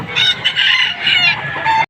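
Loud, close clucking and squawking from chickens at a poultry market in Padre Garcia, Batangas, continuous and busy, with no talking.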